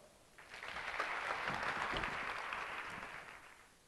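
Audience applause for presenters at a public health research day swells after a brief pause and carries on as a steady, moderately faint patter of many hands until the end.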